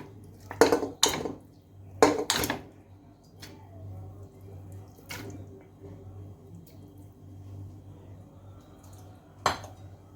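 Metal clanks and knocks of meat pieces being dropped into a pressure cooker, a few sharp hits early then a softer one later, over a steady low hum.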